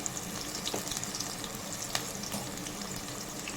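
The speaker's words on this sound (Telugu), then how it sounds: "బాగా దోరగా వేయించాలి" Sliced onions frying in a pan for fish curry, a soft steady sizzle and crackle with a few faint clinks, heard alone at low level.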